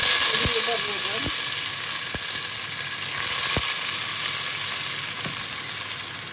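Curry leaves and mustard seeds sizzling in hot oil for rasam, a loud, continuous, close hiss with sharp isolated pops and crackles every second or so, and no talking.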